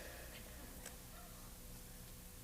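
A duck call sound effect played during a live stage play of a gospel musical, a couple of brief honking calls over a hissy theater background with no talk.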